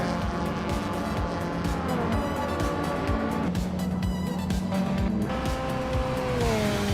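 Race cars in a video game roaring around the track, engines whining and shifting pitch with tire squeal and cars passing close, a constant loud mechanical drone with no voices.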